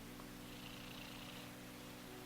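A house cat that has just woken up purrs softly and steadily up close, a low continuous rumble over faint background hiss.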